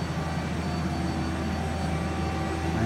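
An Okuma Multus W200 machine spindle turning at 3000 RPM gives a steady, loud mechanical drone with a continuous whine and a low rumble, unbroken and close.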